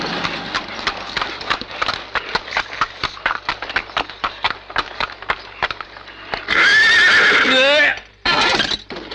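A mare neighs loudly in a Bollywood film scene, a long whinny with a shorter second call after a run of rhythmic clip-clop hoofbeats on hard ground.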